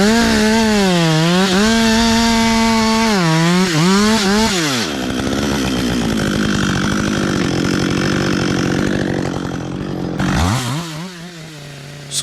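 A chainsaw cutting a fir tree into firewood rounds, loud and close, revving high with a wavering pitch, then dropping into a steady cut through the wood before revving again near the end.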